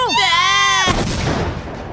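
A rocket fired in a Final Fantasy game, preceded by a rising electronic whine with a harmonic tone, then a loud explosive boom that rumbles and fades out.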